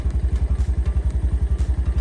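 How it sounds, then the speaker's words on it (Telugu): Honda Dio scooter engine, just started by button with the brake held, chugging at idle in a steady fast rhythm of low thumps, close and loud, no talking. "మనం బ్రేక్ నొక్కి ఈ బటన్ నొక్కితే స్కూటీ స్టార్ట్ అవుతుంది"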